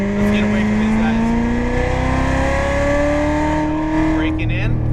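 A Corvette Z06 Stingray's engine roars loudly and close up as it accelerates hard on a race track, its pitch rising steadily through the gear, with a voice talking over the engine.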